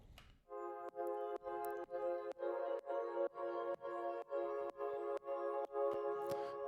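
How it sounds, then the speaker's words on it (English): A synth pad from the drop of a house track plays rich sustained chords, chopped into a regular pulsing rhythm of about a dozen swells, clean and fairly quiet with no voices. "We do have pads in the drop,"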